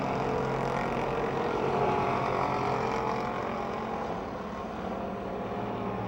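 Race cars roar around the oval at Pennsylvania Motor Speedway near Pittsburgh, a steady, dense engine drone filling the whole span without letup, loud and continuous with no voices on top.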